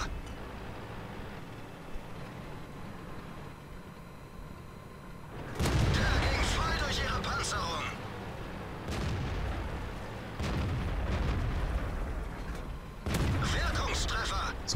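Heavy booming tank cannon blasts in World of Tanks, several loud shots with rumbling battle noise between them.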